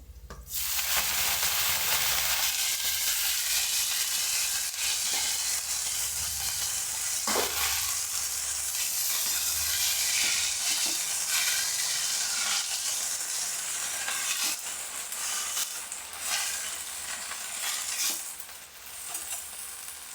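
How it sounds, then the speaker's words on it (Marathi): Fresh washed fenugreek leaves hitting a hot pan of fried green chillies and garlic, a loud, steady broadband sizzle with stirring scrapes and occasional clinks, continuous and close, no talking. "हिरवी मिरची छान त्याची अशी भाजून घेतली आहे त्याच्यामध्ये आता ही स्वच्छ धुतलेली मेथी टाकूया"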